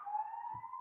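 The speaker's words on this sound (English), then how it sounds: "siren in the background." A faint siren sounds far in the background as one steady, sustained wailing tone, with a brief low rumble partway through.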